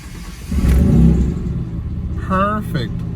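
A Mitsubishi 3000GT VR4 fires up after its starter is reinstalled: a loud, close engine catch and rev swell within the first second, then settles into a steady rumbling idle while someone speaks.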